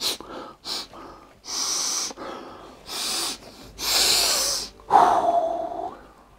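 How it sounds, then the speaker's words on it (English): Several close, breathy sniffs and snorts in short bursts, with a longer huffing exhale near the end; no talking. "let's come in for a sniff test"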